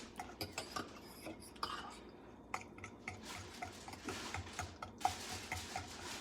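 Italian beef stirred in a pot with onions and pepperoncinis, a low scraping and clinking of the spoon against the pot in quick irregular strokes, close and fairly quiet with no talk.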